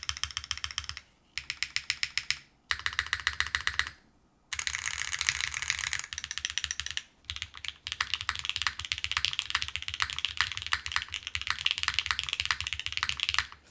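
A Neo65 Core Plus mechanical keyboard typed in several quick bursts separated by short silences, then a longer steady run of close, sharp clacks with no talking.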